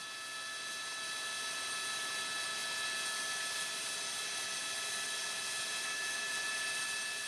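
An LAPD police helicopter hovers overhead during a night pursuit, its rotor making a steady, loud, continuous drone with a thin whine on top and no voices.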